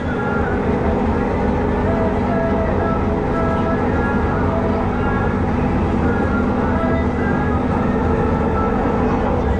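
A loud, continuous rumble of a passing coal train in Sumatra, Indonesia, with a steady grinding hum and faint tonal squeal, close by and without talk.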